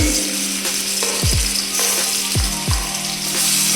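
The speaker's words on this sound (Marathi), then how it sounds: "कांदे आपल्याला छान भुजायचे आहे आणि टमाटर छान द्यायचे आणि लसूण" Onions, tomatoes and garlic fry in a pan for a cashew curry, a steady loud sizzle with several sharp scraping strokes of a spoon stirring through, no talking.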